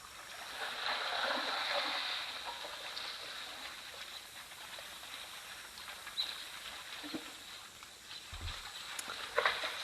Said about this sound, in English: Sounds like there's something large splashing in the water. I almost want to wager that it's probably an elephant.